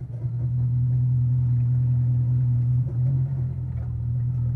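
A Mercury Racing outboard engine with a MoTeC MCM112 controller idles at a boat ramp with a steady low drone, then briefly changes pitch and load as it shifts gear, before settling back into its rumble.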